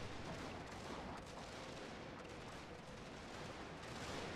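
Sustained, dense gunfire and explosive rumble fill a strategy war game battle, with overlapping shots and blasts at a steady, loud level throughout and no pause.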